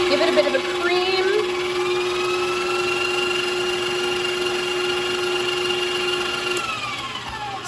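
An electric mixer whirs steadily while blending cooked potato and a cracked egg into gnocchi dough, a sustained high motor whine at one pitch that speeds up briefly at the start, then cuts off near the end.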